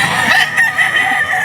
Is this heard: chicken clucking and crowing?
yes